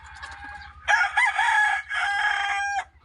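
A rooster or chicken gives a loud, squawking crow in two long bursts, close by, after a shorter call at the start.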